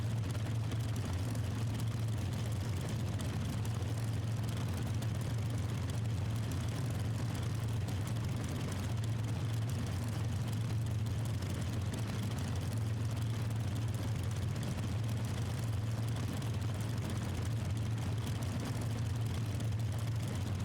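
Steady, droning aircraft engine in Microsoft Flight Simulator 2024 during takeoff on runway 23, a constant low hum at moderate level with no speech.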